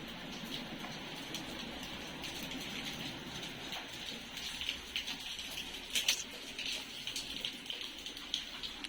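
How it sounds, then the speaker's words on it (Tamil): Steady rain falls at night in Chennai during a cyclone, a soft continuous patter and hiss heard from nearby, with occasional sharper drips standing out. "இது மாதிரி தான் மழை பெஞ்சிட்ருக்கு"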